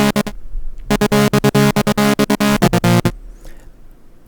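A trance gate synth built in Vital, a bright sustained chord chopped into fast, evenly pulsing on-off stabs, loud and close, ending abruptly and fading into quiet room noise.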